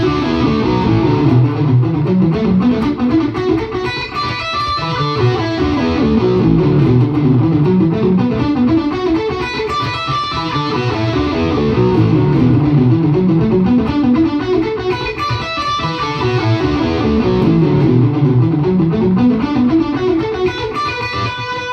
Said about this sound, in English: he's using this kind of staccato muted style, and he's allowing the slapback delay to kind of, you know, play along with him